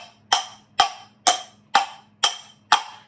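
Percussive clip-clop imitating a pony's hooves, six or seven evenly spaced bright knocks at a steady trotting pace, close and alone with a faint hum behind.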